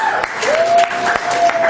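Scattered clapping from a comedy show audience, with a sustained tone running underneath throughout.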